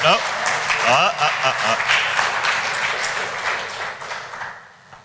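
An audience at a security conference talk on an iOS jailbreak claps, with a voice talking over the opening seconds before the applause carries on alone and fades out.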